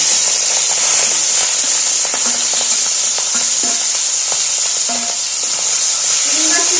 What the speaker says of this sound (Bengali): সবার ফার্স্ট এই চিংড়ি মাছগুলো ভেজে নেব।